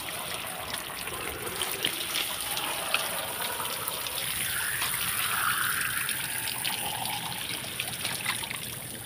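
A shower runs in a steady, continuous hiss of falling water, close and unbroken throughout with no voices.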